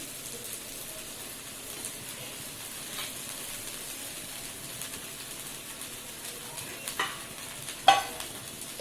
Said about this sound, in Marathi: थोडंसं तेल टाकून मागची बाजू पण आपण थोडी खरपूस करून घेऊया